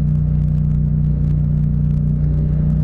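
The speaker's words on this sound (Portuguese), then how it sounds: "Rotação alta aqui, escape berrando." A Yamaha MT-07 motorcycle fitted with a sport exhaust holds high revs in traffic. Its loud, steady, close drone hums continuously with a slight wavering pitch, and no one speaks.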